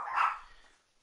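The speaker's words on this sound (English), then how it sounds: "Stop barking." A single short dog bark, loud and close, fading out quickly in a quiet room.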